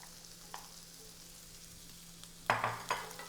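Chopped white parts of green onions drop into a hot pan for a shrimp Alfredo sauce, starting with a sudden sizzle after a quiet stretch that crackles in short bursts.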